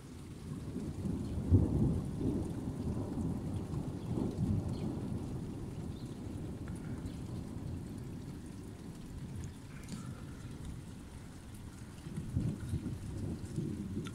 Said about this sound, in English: we will be able to hear the thunder, partially, while it continues to do so